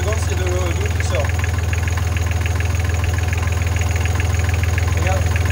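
A Yanmar 3YM30 marine diesel engine on a Sunrise 34 sailboat runs at a steady idle, a loud continuous low rumble with a faint whine, while people talk over it.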